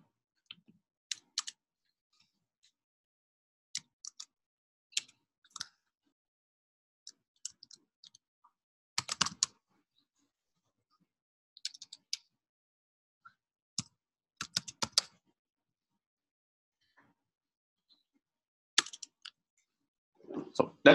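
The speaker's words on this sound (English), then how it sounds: "I'm typing on a Mac, and the Mac doesn't like me" Typing on a Mac keyboard, heard as sparse bursts of quiet key clicks separated by pauses, with no talking in the clip.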